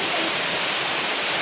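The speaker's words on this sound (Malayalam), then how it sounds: "ഇവിടെ ഭയങ്കര മഴയാട്ടോ" Heavy morning rain in Kerala roars as a dense, loud, uniform wash of water, continuous and close, with no voices or other distinct sounds.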